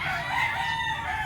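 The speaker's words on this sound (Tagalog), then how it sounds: "Ayan, nandiyan na yung mga inahin na dating nandun sa may buhanginan." Hens gathered in a rain-soaked chicken yard on a farm raise a steady, fairly loud chorus of clucking and crowing with no pauses and no voices.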